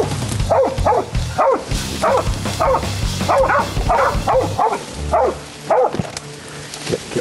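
Hunting dogs barking repeatedly in quick bursts during a Florida hog hunt, loud and close, with some yips and whimpers mixed in and a steady low rumble underneath.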